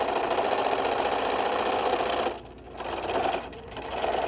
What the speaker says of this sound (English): I'm going to back stitch once, twice, and the third time.